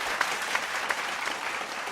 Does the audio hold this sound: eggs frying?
no